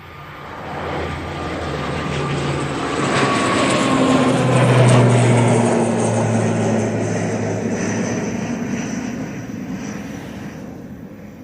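Jet engines of a Royal Jordanian airliner at Manchester Airport swell into a rising, droning roar with whining engine tones, peak midway, then slowly fade.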